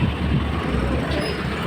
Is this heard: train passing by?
yes